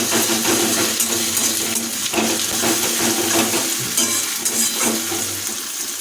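Onion with ginger and garlic paste is stirred in a frying pan (kadai), a steady close sizzle with repeated scraping strokes running throughout, no talk.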